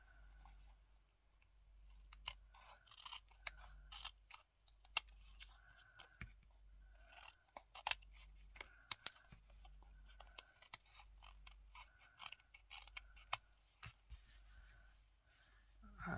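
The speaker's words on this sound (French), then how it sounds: "Je vais venir couper ce qui dépasse." Scissors snip paper for an art collage, a scattered series of short crisp cuts close by with small pauses and handling rustle between them, no voices.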